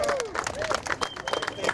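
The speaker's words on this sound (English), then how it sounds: "let's give a round of applause here for Judge Kevin Sharp." A crowd at an outdoor rally in front of the White House applauds, with scattered clapping mixed with cheering and babble while voices call out over it.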